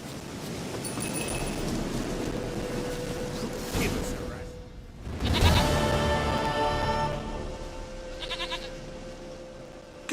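Goat in the Witcher 3 video game bleating, with several short quavering cries in the middle and near the end over a busy game background, and a voice talking at times.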